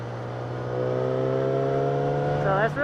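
A 2016 Yamaha R6 sport bike's exhaust drones up close at a steady pitch while riding, then revs up and down briefly near the end.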